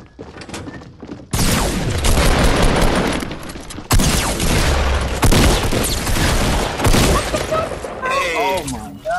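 Heavy video-game gunfire aimed at a trap on a rooftop: loud, dense bursts of automatic shooting that run almost nonstop after a quiet start, with a brief gap near four seconds and players talking over the barrage.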